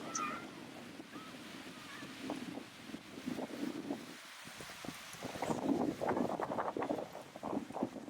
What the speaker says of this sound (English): The wind is blowing this direction towards us.